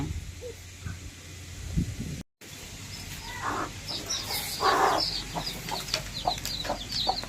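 Chicks clucking and peeping nearby, short scattered calls over a steady background hiss, with a brief dropout early on.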